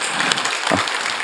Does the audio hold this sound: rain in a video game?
no